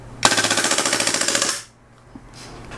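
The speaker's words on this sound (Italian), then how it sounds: "vi sparo giù una bella rafficata in fuoco automatico" Airsoft pistol firing a full-auto burst with no BBs loaded: a fast, loud rattle of sharp clicks lasting about 1.3 seconds, then near silence with a faint click afterward.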